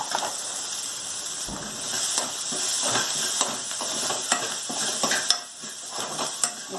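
Ginger-garlic paste, green chillies and curry leaves fry over medium heat in a pan for kadhi, a steady sizzle broken by frequent scraping and clinking stirs of a metal spoon, close and continuous with no voices.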